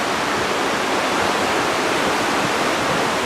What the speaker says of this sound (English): There's water coming down from everywhere.